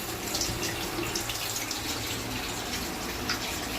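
Water runs steadily from a basin tap as a child washes its face, a continuous close splashing hiss with no voices.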